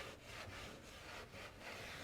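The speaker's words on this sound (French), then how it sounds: "à l'aide d'un petit chiffon, je vais venir tout simplement frotter" A small cloth rubs an oil stick over an old copper planter, a soft continuous scrubbing with a few rhythmic back-and-forth strokes, close and alone.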